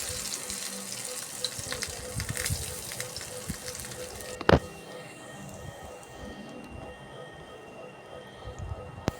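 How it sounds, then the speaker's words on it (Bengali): Prawn fritters frying in hot oil in a frying pan give a steady, moderately loud sizzle and crackle. There is one sharp knock midway, and no one talks. "দেখতে পাচ্ছ আমার চিংড়ি মাছের বড়া ফ্রাই হয়ে আসছে।"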